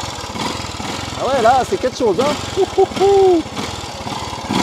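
A Honda four-stroke motorcycle engine runs with a steady low throb, then revs in several rising and falling bursts, close and loud, while someone speaks over it.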